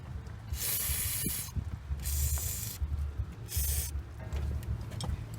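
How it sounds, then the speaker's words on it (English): Penetrating spray hisses from an aerosol can onto a stuck tie rod jam nut on a 2003 Mitsubishi Lancer ES, in four or five close, sharp bursts separated by brief pauses and faint metallic clicks. "I'm gonna spray some more."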